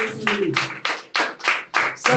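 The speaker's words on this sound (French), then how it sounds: "Applaudissez le Seigneur de gloire." Congregation in a church clapping together in a steady rhythm, about eight loud, evenly spaced bursts of claps with a low murmur of voices underneath at the start.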